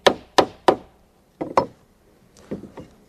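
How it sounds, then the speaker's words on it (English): Hammer blows pound a wooden decking board onto a hidden deck clip: three sharp knocks in quick succession, a pause, two more, then a softer, quicker cluster of taps, close and clear with no talking. "then pound on your next decking board like this."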